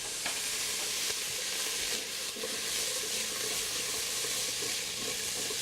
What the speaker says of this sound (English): just sauteing onions and garlic